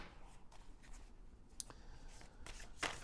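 Soft papery riffling and shuffling of tarot cards in short bursts, close by and fairly quiet, with a few sharper snaps toward the end.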